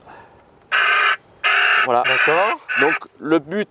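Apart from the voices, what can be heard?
acoustic bird scarer playing bird distress call at airport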